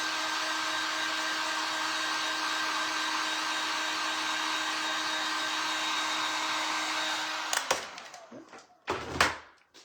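A hair dryer runs loud and steady, drying paint on a vintage construction ruler Christmas tree, then shuts off near the end, leaving brief handling clatter.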